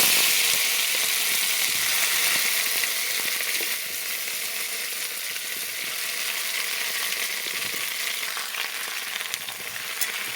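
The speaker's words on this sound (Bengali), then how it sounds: "তেল দিয়ে দেবো। দিয়ে দেবো ফুলকপি আর আলু একসাথে দিয়ে দেবো।" Cauliflower and potatoes fry together in hot oil in a heated pan, giving a steady, loud, close sizzle that holds for the whole stretch and eases off slightly partway through, with no voices.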